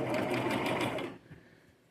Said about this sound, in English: I'll set the needle, stitch it a little bit, back stitch